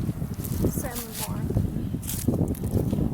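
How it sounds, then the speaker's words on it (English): Wind buffeting a microphone outdoors at the Randolph McCoy gravesite in Pikeville, Kentucky: low rumbling gusts that rise and fall continuously under a voice. "I hope that wind's not bothering the sound too much"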